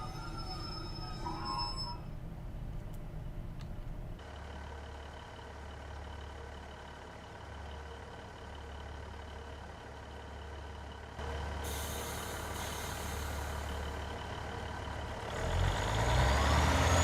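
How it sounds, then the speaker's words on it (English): A Class 150/2 diesel multiple unit in Train Simulator 2018 slows to a stop under a step 3 brake application, with steady low engine and wheel rumble, a brief hiss partway through, and rising noise toward the end; no one speaks. "I'm making a step 3 brake application to bring our speed down a little quicker"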